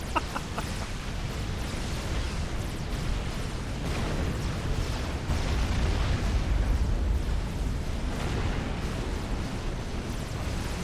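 Mobile artillery in the strategy game Supreme Commander, a dense barrage of booming shots and blasts rolling on continuously, loud and steady with no voices over it.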